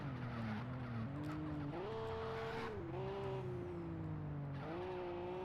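An RB26-swapped Supra in the racing game Wangan Midnight revs steadily, its engine note climbing and dropping with shifts between gears, a continuous synthetic motor whine heard alone.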